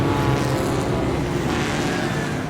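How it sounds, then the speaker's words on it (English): A fast car roars past on a Boston street, a loud engine swell close by that fades slightly as it goes, no speech over it. "risking audio interruptions by fast cars because people here are crazy drivers"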